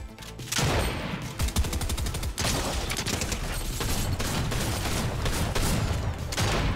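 Rapid automatic gunfire bursts loudly and almost without pause in a battle royale shooter squad match, with dense overlapping shots up close.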